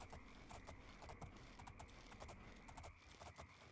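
Hooves clip-clop on a horse in the game Elder Scrolls IV: Oblivion, a faint, fast, regular patter of hoofbeats over a dense hiss of game ambience, with no talking.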